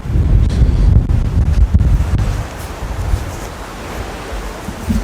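Strong wind blows across an open golf course, buffeting the microphone with heavy low rumble that is loudest at first, then eases into a steadier rushing gust.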